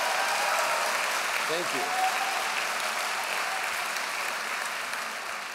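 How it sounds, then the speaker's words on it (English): Loud, steady applause from an audience at a live political event fills the room, with a brief spoken thanks heard over it. "let's have a round of applause for the people in this room who have done that"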